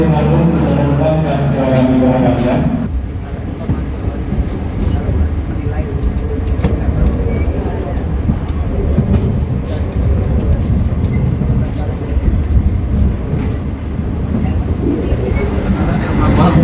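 The KA Lodaya passenger train departs Kroya station, a steady low rumble and rattle of the carriage heard from inside, continuous and fairly loud, with people talking over it.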